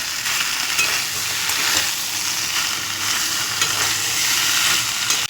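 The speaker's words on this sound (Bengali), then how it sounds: "এখানে আলু ভাজা আছে, টমেটো আছে, কাঁচা লঙ্কা আছে, সব দিয়ে দিলাম। এবার একসঙ্গে কষাবো।" Fried potato, tomato and green chilli stir-fried together in a pan, producing a dense, loud, continuous sizzle with faint stirring scrapes throughout and no voices.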